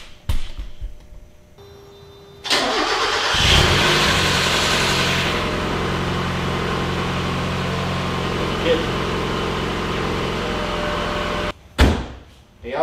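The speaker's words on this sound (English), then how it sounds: "So we're gonna start it now and hopefully it runs." A Mazda Miata engine cranks and fires, then settles into a steady idle that runs loud and close for several seconds before cutting off, with a brief clunk afterward.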